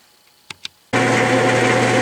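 After two sharp clicks, a metal lathe starts abruptly to face off a rough-cut part for a 2x48 belt sander, giving a loud, continuous whirring drone with no talk.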